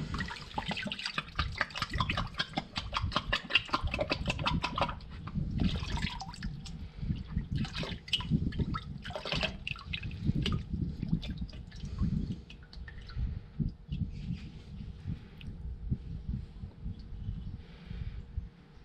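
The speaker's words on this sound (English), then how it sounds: "I try to turn it over and kind of wash the water around on the inside of it" Water sloshes and drips inside a sandy seashell as it is turned and rinsed, with close, irregular splashing and trickling throughout, busier at first and then settling into scattered drips.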